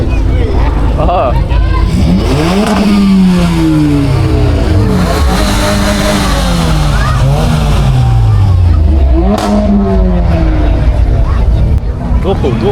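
A car engine at a car meet revs loudly and repeatedly, its pitch climbing and falling in several long pulls over crowd babble, with people talking nearby.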